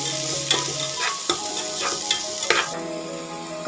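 Sliced onions frying in oil with cardamom for biryani, a loud close sizzle with several quick stirring scrapes and knocks of a spoon against the pan.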